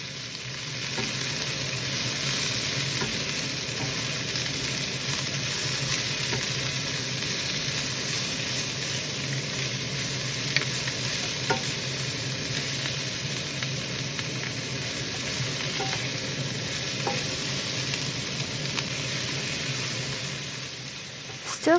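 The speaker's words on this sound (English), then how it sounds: "Stir fry the vegetable around 5 to 7 minutes" Vegetables being stir-fried for chicken chow mein in a hot pan, a continuous dense sizzle with faint stirring clatter, steady and close, with no voices.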